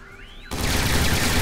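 Gatling barrel gun in Loadout opening fire after a short rising spool-up whine, becoming a dense, loud, continuous roar of rapid shots.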